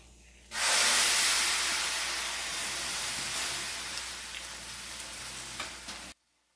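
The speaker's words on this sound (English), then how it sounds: "So as you can see, that water can steam up a lot." Water thrown into a hot pan in an oven while baking baguettes bursts into a loud, steady steam hiss that starts abruptly, slowly tapers, and cuts off at the end.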